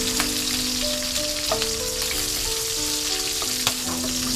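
Corn and chopped green chillies fry in hot oil for tempering, a loud, steady crackling sizzle close by with a few sharper pops.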